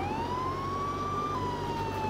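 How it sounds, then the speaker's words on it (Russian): A police car siren wails in the video game Contraband Police, a loud continuous electronic tone that sweeps slowly up and then down over steady engine and road noise. "Ну что, не видишь, что с мигалкой несусь?"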